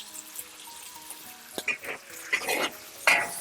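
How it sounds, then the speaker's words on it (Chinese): Beef being stir-fried with dark and light soy sauce, oyster sauce and red-oil chili bean paste, a quiet sizzle broken by several scraping stirs of the spatula against the pan that grow louder toward the end. "煸炒出酱香味， 再加入1勺红油豆瓣酱， 然后给它煸炒出红油"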